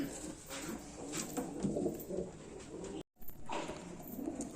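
Pigeons at a home bird sale coo softly through a steady, noisy background, with faint bursts of fluttering and general bustle. The sound stays fairly even with a brief dropout near the end.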